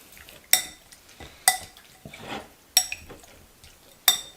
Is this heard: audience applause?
no